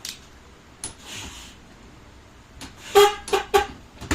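A few short beeps from the horn of a Honda ADV 160 scooter in a quick cluster, fairly close and loud, after a quieter stretch with faint background noise.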